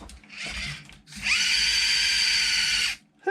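A vintage Tamiya Porsche 934 RC car, nearly fifty years old, has its electric motor whirring in a short burst. After a brief pause comes a longer, steady high-pitched whine that cuts off sharply. No voices are heard.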